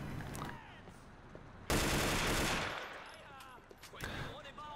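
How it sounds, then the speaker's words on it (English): Gunfire in the video game Mirror's Edge: a loud, sudden burst of shots cuts in partway through, dense and sustained for about a second before tailing off, with game sounds before and after. "I guess I just shot him in the shoulder"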